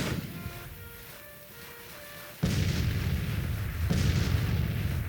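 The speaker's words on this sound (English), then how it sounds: "That cannon is going to be a big old nightmare." Cannon artillery fire in the Civil War strategy game Grand Tactician, heard as a sudden loud booming blast that cuts off a quieter tonal passage, followed by a second rumbling boom and sustained noisy roar.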